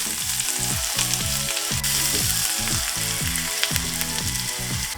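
Garlic and ginger sizzle loudly and steadily in hot oil, a dense continuous crackle with a rhythmic mechanical whir running underneath.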